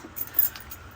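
Keys jangle briefly as they are packed into a designer handbag, a soft, faint metallic clink and rattle peaking near the middle of a quiet moment.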